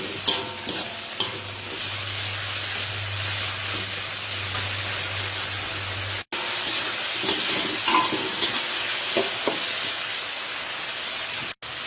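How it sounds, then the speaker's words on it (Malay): Vigorous sizzling and crackling of dried-chili paste with onion, garlic and tomato frying in hot oil for prawn sambal, with stirring scrapes, steady and close throughout. "Kita tumis sampai pecah minyak"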